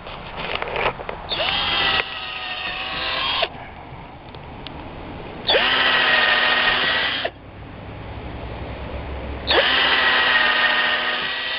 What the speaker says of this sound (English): So we're going to just drill out these right now.